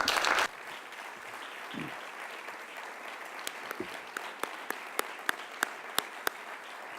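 Audience applause at a gala awards ceremony in a hall, a short burst of clapping that quickly thins out into a few scattered, sharp individual claps spaced apart.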